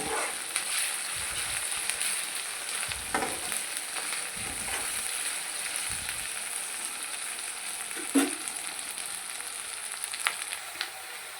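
Egg masala mixture sizzles steadily in a hot pan on the stove, broken by several soft scraping stirs at irregular intervals, close and moderately loud with no talking.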